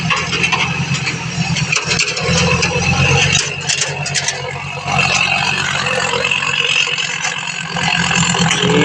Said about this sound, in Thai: มาขับรถไถแทนครับ